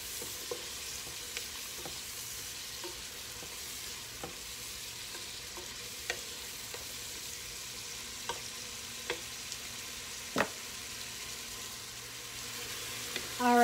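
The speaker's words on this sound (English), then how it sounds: "my vegetables have been cooking for a little bit" Vegetables sizzling in a pot for jambalaya, a steady frying hiss broken by occasional scrapes and knocks of stirring, close and moderately quiet with no talking.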